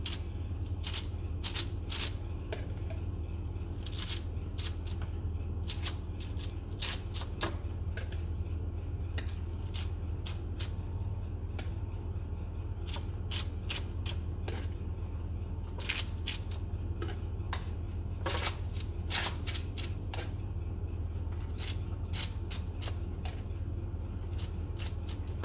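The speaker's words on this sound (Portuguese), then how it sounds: "com a ajuda de um garfo e um pouco de água, vamos tentar amassar aqui as bolachas" A fork presses peanut butter cookie dough with a little water, producing irregular clicks and taps against a tray over a constant low background hum, close and fairly quiet.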